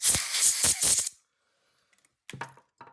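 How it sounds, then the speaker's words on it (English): A short, loud burst of canned air sprays out of a disassembled CKF Davless knife's pivot for about a second, then silence and a couple of faint clicks. "blow it out. You're gonna see a spray here."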